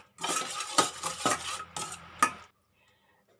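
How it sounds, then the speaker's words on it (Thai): A utensil stirs sugar and MSG in a pot to dissolve them, a close series of scraping, clinking strokes against the metal for about two seconds, then quiet. "ตอนนี้เราจะคนให้น้ำตาลเขาละลายก่อนนะคะ"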